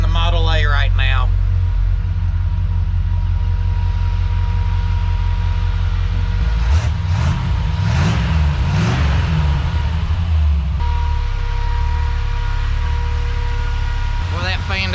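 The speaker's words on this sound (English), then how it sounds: "I cannot believe we are driving the Model A right now." A 1930 Ford Model A engine idles and rumbles steadily, loud and close, as the car backs out, with a fan whirring and people talking over it throughout.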